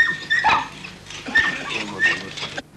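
Pit bull dogs fighting to the death before a crowd of villagers in Makrochori, Imathia, in 1997, with a dense, busy mix of snarls and yelps running through the whole short stretch and no clear pauses.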